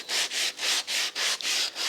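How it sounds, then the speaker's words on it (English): Rhythmic back-and-forth scratchy rubbing of sandpaper on an old engine block soaked in WD-40, about seven even strokes, close and fairly loud. "And now we can start sanding"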